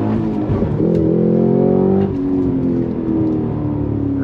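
A 2023 Cadillac CT5-V Blackwing accelerates on a race track, its engine note climbing steadily in pitch with a short shift break midway, loud and continuous from inside the car.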